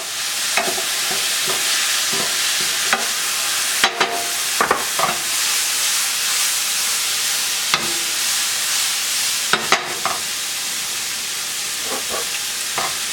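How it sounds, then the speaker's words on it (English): Red pepper flakes and onions sizzle and toast in a hot pan, a steady close frying hiss running throughout with scattered crackles and the scrape of stirring, no voices. "we're just going to throw those right in there so they can start getting a little toasted"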